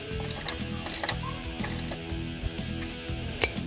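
A hand ratchet snugging a bolt on a GM full bench seat's manual seat track, a steady run of close, crisp clicks in repeated bursts with one sharper clack near the end.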